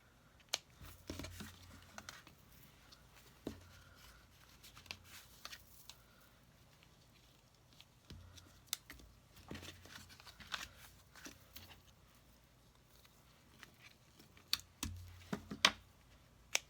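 Scissors snipping string on a handmade paper card, with several quiet, sharp clicks and small taps scattered across a near, hushed scene.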